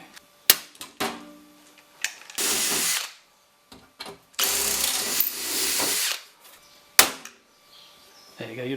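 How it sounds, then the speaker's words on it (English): A power drill re-bores misaligned holes in a DIY mill cabinet, sounding in a few loud, near whirring bursts of one to two seconds between sharp clicks and knocks, with quiet gaps in between. "Oh dear, I'll have to re-drill them."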